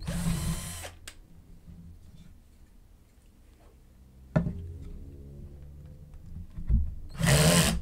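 A power drill bores into wood for a drawer build in a workshop, with two loud bursts at the start and end and softer, halting whirs and clicks in between.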